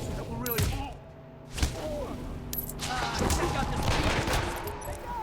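Gunfire erupts in the stealth video game Hitman Absolution, with bursts of shots and thuds layered over dense game noise and background music, fairly loud and continuous.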